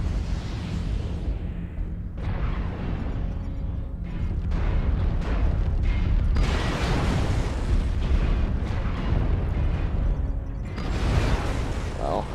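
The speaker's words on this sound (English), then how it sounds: "Airstrike online." Heavy booming airstrike explosions in MechWarrior Online, a dense sustained rumble of blasts with mechanical game noise, loud throughout while a voice talks over it.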